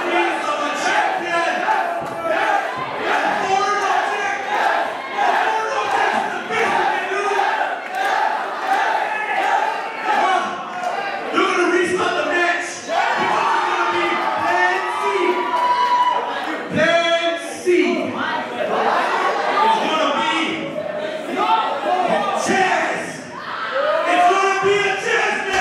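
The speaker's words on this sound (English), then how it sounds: "Loud cheers from the crowd who did not want to see this end." A large crowd roars and chants at a wrestling match, loud and sustained for the whole stretch, with commentators talking over the noise.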